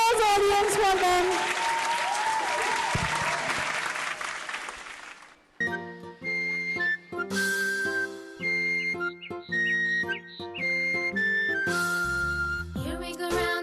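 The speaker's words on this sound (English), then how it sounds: "Please give a huge round of applause, audience, for them." Audience applause at a school annual day, loud broadband clapping with whistles for a young children's performance that lasts about five seconds before cutting to bright music.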